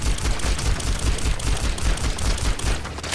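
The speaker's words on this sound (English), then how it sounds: "It's a full auto. Look at this. Look at this. Look how fast it fires." Rapid full-auto pistol fire in the Overwatch video game, a fast, steady stream of loud, close shots running continuously without pause.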